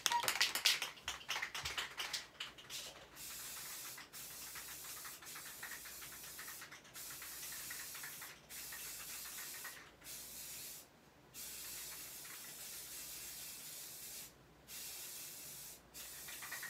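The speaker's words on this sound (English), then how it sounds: "I'm gonna walk on the other side of the room real quick and spray paint it" Aerosol spray paint hissing from a can onto an epoxy-and-acrylic marble tumbler cup, a series of steady bursts of several seconds each separated by short pauses, close and fairly quiet, with no talking.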